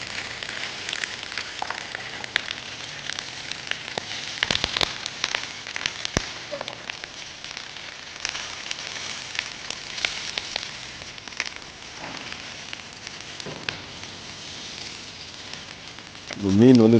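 Stone fish wrapped in banana leaf frying in oil, a steady dense crackle and sizzle with scattered sharp pops running throughout, fairly close and continuous.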